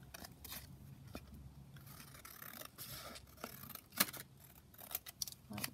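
Scissors snip through a paper tag for a sheet-music collage journaling project, a series of close, crisp cuts and rustles at an uneven rhythm with a sharper snip near the end, no talking.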